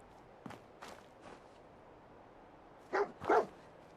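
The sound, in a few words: dog barking in Fallout 4 video game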